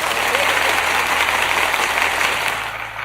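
A single man applauds himself with continuous rapid clapping, a close, even wash of claps held for a few seconds, with a faint voice in the background.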